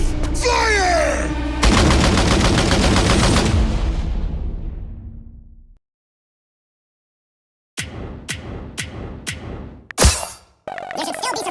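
Rapid gunfire bursts from a video game battle against a zombie horde in a town, dense and loud for several seconds, then silence followed by sharp separated shots and a louder blast.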